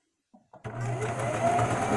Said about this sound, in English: I'm using my left foot to sew today